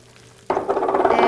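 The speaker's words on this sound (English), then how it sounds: "So I'll do that now, adding in the onion" Chopped onion hits a hot frying pan with a sudden loud sizzle that keeps crackling steadily, with light stirring in the pan, close and without talk.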